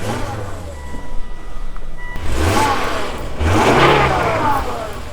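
A Volvo's engine runs and revs up twice at an auction, close by, with a rattle from the engine bay, a faint beeping early on and some talk over it.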